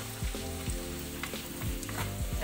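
Black pepper and ginger fry in a pan, a loud close sizzle with stirring scrapes and clinks while other steady tones run underneath.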